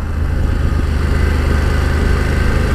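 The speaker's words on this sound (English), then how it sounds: "this engine's got a really nice low rumble to it with the standard exhaust on." A 2018 BMW F750GS adventure motorcycle on its standard exhaust idles with a steady, loud, low rumble, held at an even pulse throughout with no voices.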